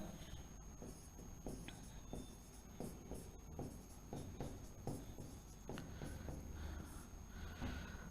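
Pen scratches on paper in soft, steady strokes as notes are written by hand during a geography lesson, faint and close over a constant background hiss.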